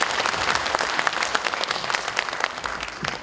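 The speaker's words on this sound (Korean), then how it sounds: "우리 후보들께 아낌없는 격려의 박수 부탁드리겠습니다" Delegates at a Democratic Party Daejeon chapter convention applaud the candidates with steady, brisk clapping from a sizable crowd, loud and even across the whole stretch.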